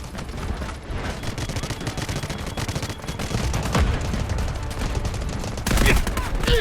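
An artillery barrage in the Delta Force Mobile war game, dense rolling gunfire and heavy thumping impacts under constant battle noise, loud and continuous with a stronger blast near the end.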